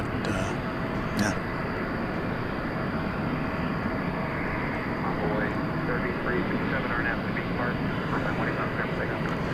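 A plane taking off at DFW Airport at night, a broad distant jet roar rumbling steadily throughout with faint background voices.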